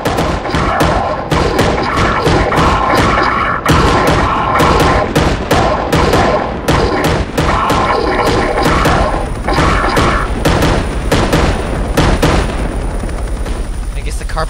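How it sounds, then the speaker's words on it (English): Carpet bombing rains down in a multiplayer video game, a dense, loud barrage of booming explosions and gunfire thuds in rapid, irregular succession with hardly a pause. "I guess the carpet bombing isn't gonna work."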